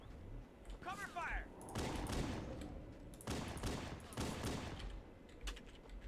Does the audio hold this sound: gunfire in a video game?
yes